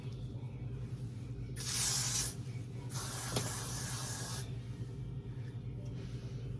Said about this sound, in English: I'm gonna freeze spray it into like the placement that I want